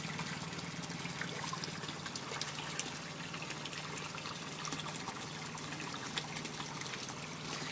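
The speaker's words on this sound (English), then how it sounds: "that's the auto siphon working right there" An aquaponic auto siphon drains water in a steady, continuous trickling rush with no break, fairly soft and even throughout.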